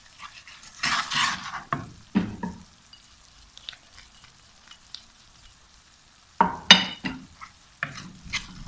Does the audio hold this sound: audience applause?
no